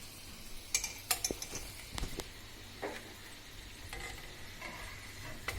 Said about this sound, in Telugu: ఇలా గరిటెతో బెల్లం పాకాన్ని బాగా జాంగ్రీలకు పట్టించాలి.